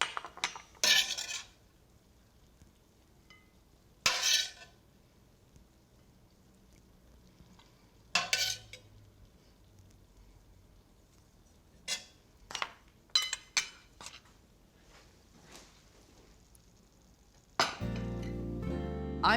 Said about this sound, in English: I can put this salad in this beautiful bowl